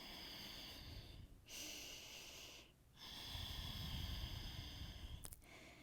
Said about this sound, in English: And let's take 5 deep breaths here.